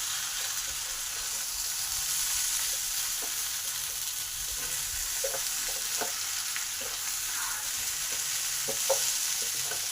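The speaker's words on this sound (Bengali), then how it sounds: "এবার এর সঙ্গে ক্যাপসি, কাঁকরোল আর ঢেঁড়স যে ভাজা আছে সেইগুলোও দিয়ে দিলাম। এগুলো সব ভালোভাবে মিশিয়ে নেব।" Fried capsicum, pointed gourd and okra are stirred together in a pan, with a steady close sizzle and scattered spatula scrapes and taps throughout and no talking.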